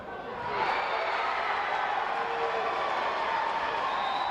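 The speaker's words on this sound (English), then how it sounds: "The crowd is going crazy right now." Crowd roaring and cheering at a college volleyball match between Grand View and Viterbo, a dense, sustained wash of voices building within the first half-second and holding loud and steady throughout.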